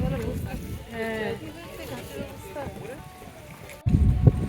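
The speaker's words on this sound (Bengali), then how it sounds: "যাচ্ছে লঞ্চ।" A motor launch passes on the river at Hooghly, a low rumbling wash under nearby people talking, rising louder near the end.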